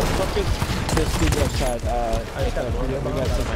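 Dense, continuous gunfire and crackling shots rattle through a pirate ship battle in a video game, loud and steady throughout, with players' voices mixed in.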